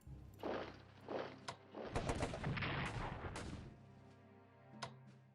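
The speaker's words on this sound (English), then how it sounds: "let's move artillery into place. It's just to do some HQ busting" Artillery barrage in a WW1 strategy video game set in the Russian Civil War: a burst of booming shots and rattling gunfire fills the middle seconds, then fades to a low hum with one final thud.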